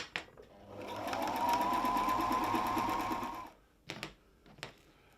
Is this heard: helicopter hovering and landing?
no